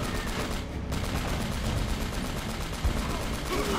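Dense, continuous gunfire from the action game Uncharted: Drake's Fortune, a loud, unbroken wall of overlapping shots and noise with no clear gaps.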